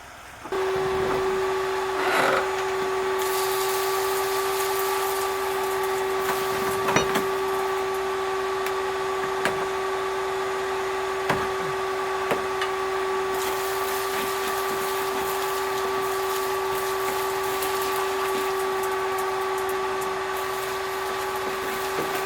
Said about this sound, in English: Get my vacuum cleaner back out here and get the dirt out from around that one where I can see it.